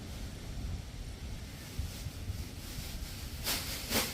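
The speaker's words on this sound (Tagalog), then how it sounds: "Sobrang lakas pa rin ang hangin." Strong wind gusting outdoors through garden plants during a typhoon-like storm, a steady broadband roar with two sharper gusts near the end, no voices.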